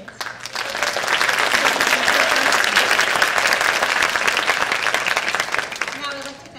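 Applause swells from a school spring concert audience for children who have just played their first concert, holding a dense, even roar of clapping for several seconds before tapering off, with faint voices mixed in.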